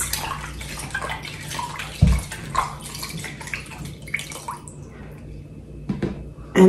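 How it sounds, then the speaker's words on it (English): Hands washed under running water from a tap, a steady splashing stream with drips and occasional louder splashes and gurgles, close by and alone. "I'm gonna wash my hands."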